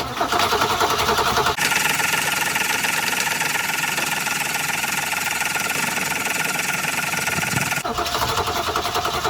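A 1966 Ford Mustang with a stuck valve and a choke stuck open cranks hard and tries to catch, a steady loud churning broken by short pauses near the start and end, with no voices over it.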